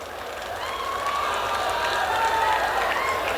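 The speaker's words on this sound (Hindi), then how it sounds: "ताली बजा दो मेरे भाई।" An audience at a Sunil Pal Bhojpuri comedy show in Garhwa breaks into applause, a steady wash of many hands clapping with some crowd cheering, building slightly and sustained.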